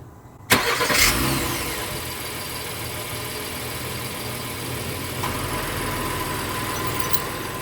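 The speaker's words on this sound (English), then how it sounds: "So I'm going to film it while pressing that button to do the self-start again." A 2018 Honda Pilot EX-L Elite is started remotely with its key fob, its engine catching with a sharp burst and then settling into a steady close idle that continues to the end.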